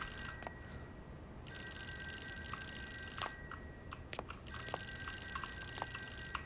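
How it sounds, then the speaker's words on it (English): A telephone in the horror video game Fork Road rings in faint repeated electronic tones under a low background hiss, with scattered soft clicks and no talking. "How many times did the phone ring?"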